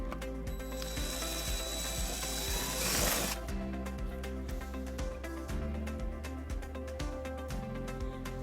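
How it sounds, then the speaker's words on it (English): A brief whirring power drill burst near the middle, drilling into a 2015 Mazda CX-9 while installing trailer wiring, surrounded by repeated ratcheting clicks and mechanical rattling at a steady pace. "and then we'll drill our second hole."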